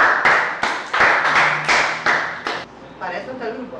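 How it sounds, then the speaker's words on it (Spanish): A small group claps in uneven, distinct bursts for about two and a half seconds, close and fairly loud, then trails off as voices murmur. "Muy bien, un aplauso."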